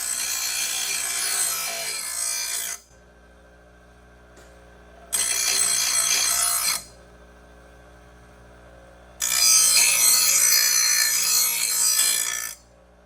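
A Huskee lawn mower blade is sharpened in three steady grinding passes of about two to three seconds each. The rasping is loud and broadband, with quiet pauses and a faint hum between passes.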